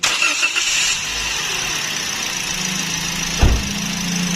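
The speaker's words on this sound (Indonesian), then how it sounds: "kita bunyikan mesinnya ya, suara mesinnya kayak gimana" A Daihatsu Sigra X car engine cranks and catches with a short, loud start about three quarters through, then settles into a steady low idle over constant background noise.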